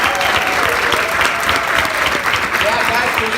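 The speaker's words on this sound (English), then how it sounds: "let's do a round of applause for Jasmine and Chris Blue here" A school event audience gives student speakers a round of applause, with steady dense clapping from a crowd throughout and faint voices underneath.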